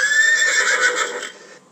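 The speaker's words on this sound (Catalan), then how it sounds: "I aquí tenim el cavall." A library sound-effect horse neigh: one loud, shrill whinny that wavers for over a second and then cuts off cleanly, alone and close.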